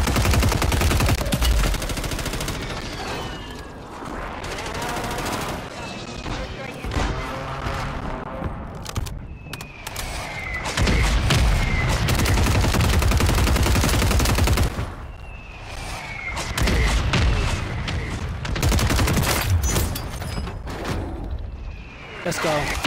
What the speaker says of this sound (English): There's mortar strikes.